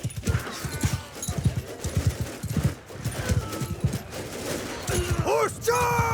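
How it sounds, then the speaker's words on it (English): A cavalry charge in the Tales From The Age Of Men mod, at the Lothlorien battle: loud, rhythmic drumming of many galloping hooves mixed with clashing battle noise, ending in a rising whinny-like tone. "Horse charge! Horse charge. Cavalry charge."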